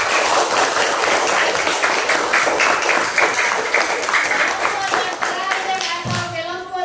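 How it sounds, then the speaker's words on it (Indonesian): A crowd claps together for the second group, a dense, steady patter of many hands that runs for several seconds and thins out near the end as a voice comes in. "Ya, tepuk tangan dulu untuk kelompok"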